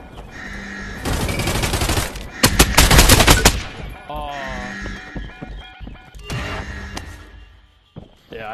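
Loud bursts of automatic gunfire in Call of Duty Warzone played in VR: two dense rattling volleys up front, then a shorter burst later, mixed with game effects while someone talks between shots.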